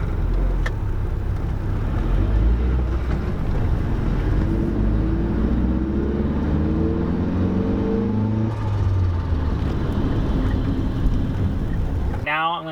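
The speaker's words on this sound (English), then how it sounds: "I'm going to do a little pull in second gear from 1500 to 3000 at full throttle." A car engine pulls at full throttle in second gear from 1500 to 3000 rpm, a steady, loud rumble rising gradually in pitch over several seconds before a short sharp noise at the end.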